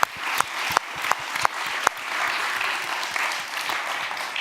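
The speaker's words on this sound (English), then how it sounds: "And another warm round of applause to our speakers and Vote for Women and our partners, and Anu" An audience at a meet-up applauds for the speakers, with a few loud individual claps standing out over a steady crowd clapping that carries on throughout.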